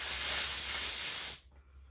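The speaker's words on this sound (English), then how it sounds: "just lightly blow this screen out" A short, steady hiss of air lightly blown through a carburetor screen on a 1999 394 engine, with the broadband rush holding for over a second before cutting off into near silence.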